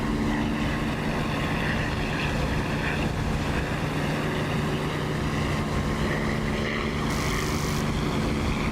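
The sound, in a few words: Corsair propeller plane flying in video game DCS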